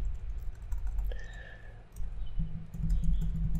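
Computer keyboard keys are tapped in short bursts while writing Minecraft command text, quick close clicks over a steady low background hum.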